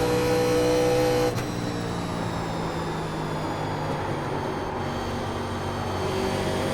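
A NASCAR Legend race car in iRacing at Atlanta Motor Speedway drones with a steady engine note that shifts briefly near the start and then holds at a constant pitch as the throttle is managed.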